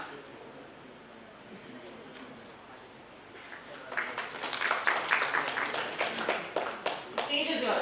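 At a social work conference, an audience breaks into applause partway through, a burst of many hands clapping that swells and then thins out, with a murmur of voices before it starts.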